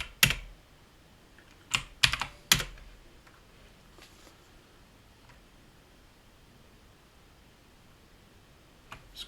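Short bursts of keystrokes on a computer keyboard at a physical Ubuntu machine, a few clustered clicks near the start and one faint tap near the end, with long quiet gaps between them.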